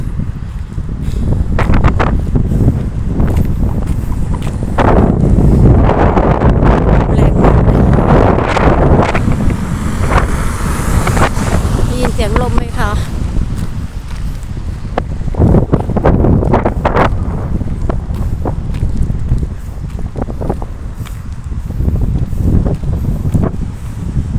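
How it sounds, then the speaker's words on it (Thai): Strong, cold wind blowing outdoors in Kalix, Sweden, buffeting the microphone with loud, continuous gusts and rumble for the whole stretch, with no talking. "เย็นฉ่ำลมก็แรง"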